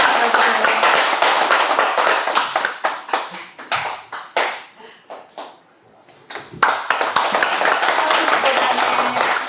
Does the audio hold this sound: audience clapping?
yes